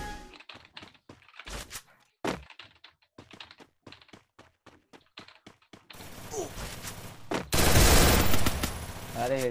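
Gunfire in the shooter game Free Fire, bursts of sharp shots mixed with rapid keyboard clicking, then louder dense firing and game noise toward the end.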